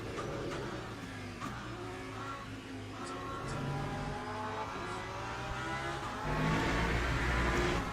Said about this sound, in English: Hypercar coming.